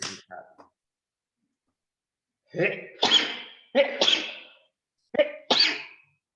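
A series of sharp, explosive sneezes: one quick burst, a pause, then four more in two close pairs, loud and near with nothing else between them.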